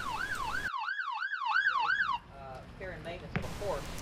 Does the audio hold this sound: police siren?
yes